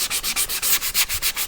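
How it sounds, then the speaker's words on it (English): Sandpaper rubs by hand along the routed round-over edge of a wooden door, a loud rapid back-and-forth scratching of about eight even strokes, close and alone. "We're going to hand sand the edge to smooth up our route and take off any sharp corners"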